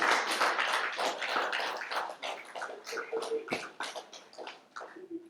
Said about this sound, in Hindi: जरा तालियां बजाओ इनके लिए